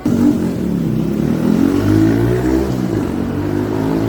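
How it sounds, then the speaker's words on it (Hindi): A small motorbike engine runs close by on a street in Kobe, Japan, a steady loud putter with rising and falling pitch as it revs, no voices. "छोटी सी बाइक है, साउंड देखो भाई का कुछ ऐसा है"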